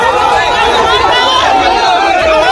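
An angry crowd of villagers in Sandeshkhali shouting as they surge toward TMC leader Shahjahan Sheikh's house. The loud, dense, unbroken clamour of many voices is close and stays at a steady level throughout.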